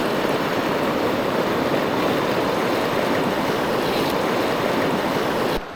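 Steady broadband rush of river water flowing through pocket water in New Zealand on a wet day, continuous and close, filling the whole stretch with no talk before cutting off sharply at the end.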